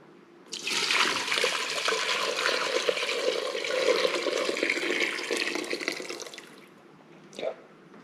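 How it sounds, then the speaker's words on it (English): Hot bone broth poured quickly back into a container, a steady, loud liquid splash and rush lasting about six seconds before stopping abruptly, with a brief faint splash afterward. "We're just going to pour all of this back in really quickly."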